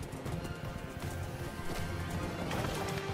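Horse hooves galloping in a Minecraft animation, a steady patter of clip-clop beats under a dense, busy mix of background sound.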